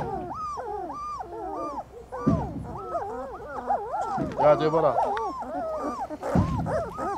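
Central Asian Shepherd dogs whine and whimper in repeated rising and falling cries, with a few deeper growling bursts, fairly close and loud, as people talk in between.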